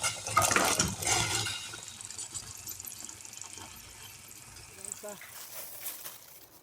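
Boiled collard greens being poured out and drained, water splashing and gushing loudly at first, then fading to a softer trickle with a few clinks near the end.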